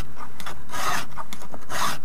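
Hand file sharpening the teeth of a chainsaw chain, giving a close, loud, gritty rasp in repeated strokes with short pauses between them.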